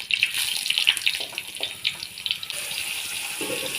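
Seer fish pieces go into hot oil on a stone griddle, raising a close, bright crackling sizzle with scattered pops, settling into a steadier, slightly quieter hiss.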